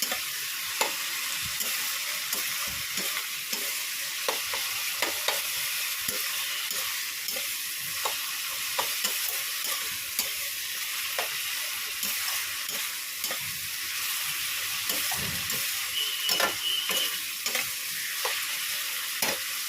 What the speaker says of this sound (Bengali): পেঁয়াজটা ভাজা হতে আমি রসুনটাও দিয়ে দিয়েছি